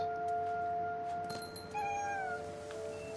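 Cat in the Minecraft video game meowing once, a short rising-then-falling cry over steady game background tones, alone without talk.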